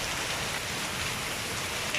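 Outdoors at a shrimp-trapping spot, rain falls as a dense, even hiss, constant and fairly loud for the short stretch, with no voices.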